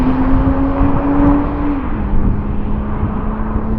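Toyota Supras, 3.0 and 2.0 versions, launch in a drag race: one loud, close engine roars and whirs hard, its pitch dropping once partway through as it gears up under full acceleration, with no talking.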